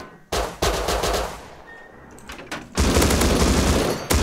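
Rapid bursts of gunfire in the survival game Rust during a base raid, with sharp close shots opening and a long loud sustained volley closing, separated by a quieter stretch.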